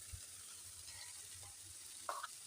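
Vegetables with sweet corn fry in a pan, giving a soft, steady sizzle with a few faint clinks of a stirring utensil, heard quietly on its own.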